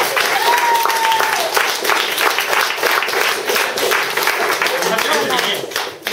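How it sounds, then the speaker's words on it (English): Audience at a book launch party breaks into sustained applause, a dense patter of clapping from a room full of people lasting several seconds, with voices and a brief cheer mixed in. "I'd like you all to give Erin a round of applause"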